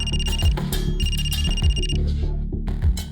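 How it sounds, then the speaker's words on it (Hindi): A telephone rings in a police control room during a crime drama, its electronic bell repeating in clear bursts over a low background music bed, with no talking. "हाँ तिवारी, सर कंट्रोल रूम से फोन आया था अभी।"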